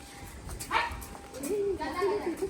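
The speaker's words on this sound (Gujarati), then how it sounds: "ડેન્જર છો હાલ દોડતો નહીં હો પુષ્પડી બી છો કૂતરા" A village dog gives a few short, close barks and yips amid nearby voices.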